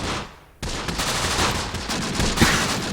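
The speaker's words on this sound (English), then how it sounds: "it looks like our machine guns are doing pretty good work here on this Bersaglieri MG squad" Gunfire from a machine gun squad in the Close Combat war game's Italian desert battle, a dense crackling volley that starts abruptly after a quiet moment and keeps going steadily, with a sharper burst near the end.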